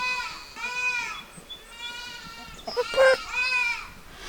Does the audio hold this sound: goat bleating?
yes